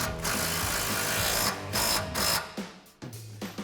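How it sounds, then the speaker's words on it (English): A ratchet driving an 18mm socket tightens a bolt on a BMR rear lower vertical link of a 2015-2023 Mustang, giving steady close clicking that breaks off in short pauses near the end. "Now you switch the 18mm socket and tighten the bottom down."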